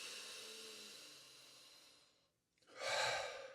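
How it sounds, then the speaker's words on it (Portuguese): A person breathes in a relaxed, normal rhythm after letting the shoulders drop, a soft hiss of air fading out before one fuller, louder breath draws in near the microphone; no talking. "solta os ombros e tenta fazer uma respiração normal"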